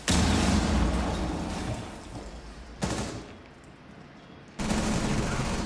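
Rapid automatic gunfire bursts in a Call of Duty match, loud and close, in two or three clusters separated by brief lulls.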